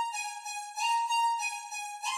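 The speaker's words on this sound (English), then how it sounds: "then I exported the sample one octave up, which sounds like this" A guitar sample from a song, pitched up one octave, plays as a bright sustained tone with a slight pulse and faint swells. It sounds isolated and fairly quiet, with no voices.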